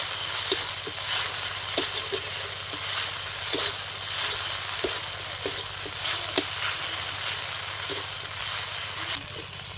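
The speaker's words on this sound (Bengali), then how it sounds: "এবার আমি সরষে আর কাঁচা লঙ্কাটা বেটে রেখেছিলাম সেটা দিয়ে দিচ্ছি। আরও কিছুক্ষণ খুব ভালো করে আমি নেড়ে চেড়ে নেব।" Ground mustard paste and green chili fry in a pan for pomfret curry, giving a steady close sizzle broken by light, regular scraping strokes of a spoon, with no voices.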